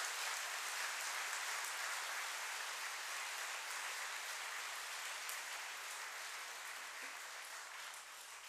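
A large audience at a religious ceremony, True Children's Day, applauds in sustained, even clapping that fills the space and fades slightly toward the end, with no speech over it.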